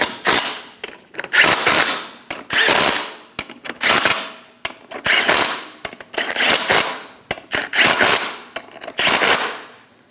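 An impact power tool snugs down lug nuts on a Chevrolet Express 2500 van, sounding as repeated loud rattling bursts of hammering, each a second or so long with short gaps between, close by and alone without speech.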